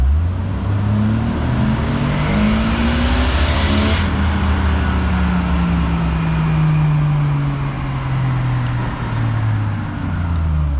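A Jeep Wrangler with the 4.0 engine on a dyno, throttle floored from idle: loud, steady engine roar with rising harmonics sweeping upward as it revs, then holding high and slowly easing, continuous throughout.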